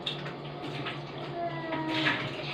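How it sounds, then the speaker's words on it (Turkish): A tray is washed under running tap water, a close splashing and trickling that rises and falls, with faint speech-like sounds in the background. "Şimdi bu tepsiyi yıkayacağız."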